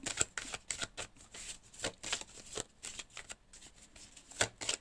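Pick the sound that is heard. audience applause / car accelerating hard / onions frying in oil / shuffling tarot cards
shuffling tarot cards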